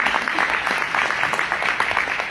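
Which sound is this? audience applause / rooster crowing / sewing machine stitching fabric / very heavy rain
audience applause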